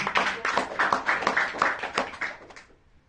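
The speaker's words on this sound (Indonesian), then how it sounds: "Tepuk tangan untuk SNS, Pak." An audience applauds at a motivational business seminar, a dense burst of many hands clapping close by that tapers off over about three seconds.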